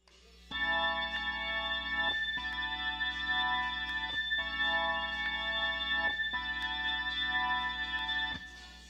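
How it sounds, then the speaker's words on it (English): Hammond organ track isolated from a song: steady, sustained organ chords held in long phrases with brief breaks between them, played alone and fading out at the end. "And there's a Hammond organ track."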